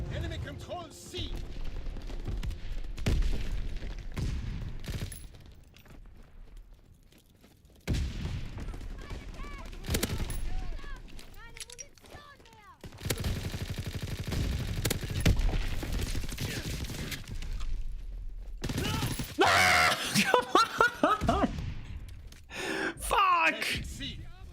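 Call of Duty WW2 multiplayer gunfire: rapid bursts and sustained automatic fire come and go across the stretch, some stretches loud and dense, others quieter, mixed with game sounds and a player talking over them.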